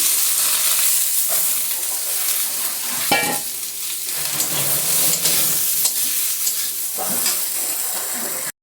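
Fried potato and pointed gourd being stirred in a sizzling pan, with a constant loud frying hiss broken by several clattering scrapes of the spatula.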